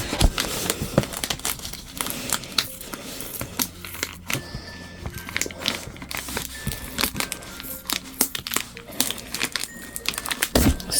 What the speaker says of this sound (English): So we are unwrapping number 2, this one.